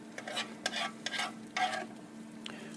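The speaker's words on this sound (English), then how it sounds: "what we've got to do now is put our burgers on over here" Lamb burger patties are set down to cook on a hot surface beside finished onions and bacon, giving soft scraping and brief sizzling bursts at a quiet level.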